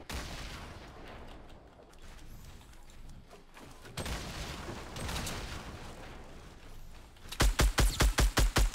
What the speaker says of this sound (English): this guy's actually throwing nades at me